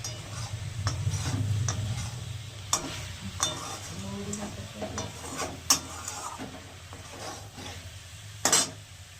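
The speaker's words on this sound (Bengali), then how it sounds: "এবার কপিটা দিয়ে দিলাম, কপিটা দিয়ে আরেকটু কষাবো" Cauliflower stir-frying in a pan for a vegetarian dish, a soft steady sizzle with scattered scraping and clinking of a spatula against the pan.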